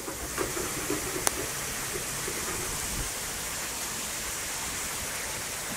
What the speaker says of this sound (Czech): A začíná pršet.